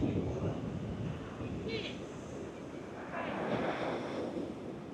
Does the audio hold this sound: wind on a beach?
yes